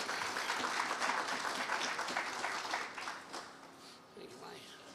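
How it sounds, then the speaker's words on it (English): An audience at a bank ribbon cutting applauds Senator Mike Feasey with steady clapping that fades toward the end, with faint talk underneath. "I'll send a round of applause for Mike."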